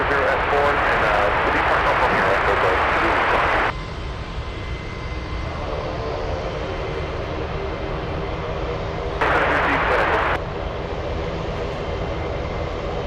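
Jet engines power up for takeoff at Anchorage airport, a steady broadband roar under stretches of crackly radio talk that come in louder bursts near the start and again partway through.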